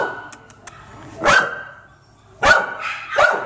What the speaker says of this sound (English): Do you have a barking neighbor?